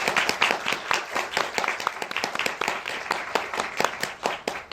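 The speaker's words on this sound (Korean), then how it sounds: "오늘 참석하신 세 분의 게스트에게 일단 먼저 힘찬 박수를 보내주시기 바랍니다." Applause from a cinema audience at a film premiere stage greeting, dense clapping that carries on steadily throughout with no gaps.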